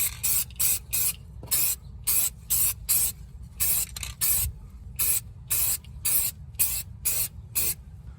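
Short bursts of an aerosol spray can lay a heavy anti-rust coating onto a wheel, about fifteen quick hissing pulses in irregular rhythm, close and clear over a low steady background rumble.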